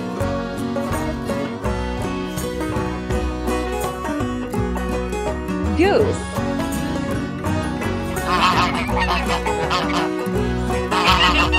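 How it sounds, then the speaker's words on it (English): A farm goose gives a short honking call partway through, set against loud, continuous background music. "Goose."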